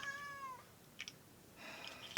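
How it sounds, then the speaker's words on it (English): A cat meows a few times, one clear call at the start and another toward the end, fairly faint and alone with no talk. "Alright, cat's meowing."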